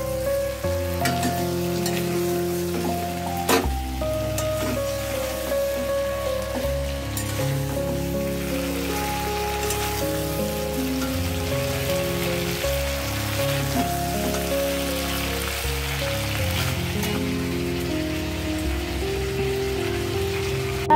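Cauliflower coated in ground coriander, ginger and chilli paste sizzles as it sautés in a pan, with a steady frying hiss running underneath background music.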